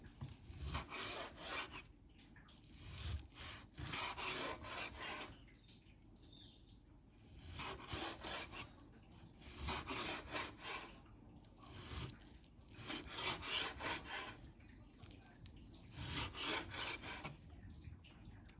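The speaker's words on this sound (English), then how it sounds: "now, I can cut them in very thin slices, like so" A knife slices raw pork into very thin pieces on a board, giving repeated rhythmic rasping strokes, close and fairly quiet, in steady bursts with brief pauses between runs of cuts.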